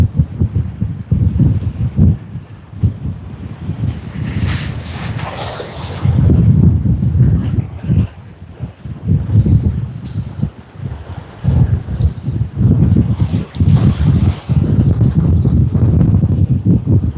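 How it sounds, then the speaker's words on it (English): Strong, gusty wind buffets an outdoor microphone at Sydney Airport, a loud continuous low roar that surges and dips throughout with no voices. "The wind is just getting worse by the day."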